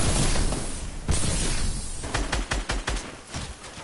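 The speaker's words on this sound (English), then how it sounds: "Oh, I got that old gun. This gun is so good." Loud rapid gunfire from a gun in a PS4 video game, a dense fusillade at first that breaks into separate sharp shots and short bursts toward the end.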